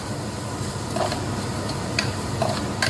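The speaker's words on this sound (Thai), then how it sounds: "คั่วพริกกระเทียมค่ะตะไคร้อะไรพวกนี้เครื่องให้หอมก่อนค่ะท่านผู้ชม" Chili, garlic and lemongrass dry-roasting in a pan, a dry crackle and light ticking with occasional sharper clicks as the pieces shift, steady and close.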